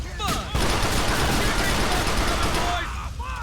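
Gunfire in the video game GTA 4: The Lost and Damned, a dense barrage of shots filling most of the clip at close range, with a player talking over the shooting.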